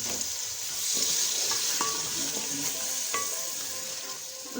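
Fenugreek leaves and peas go into a frying spice masala for mixed vegetables and are stirred, giving a steady close sizzle with scattered scraping and clinking spoon strokes throughout, no voices.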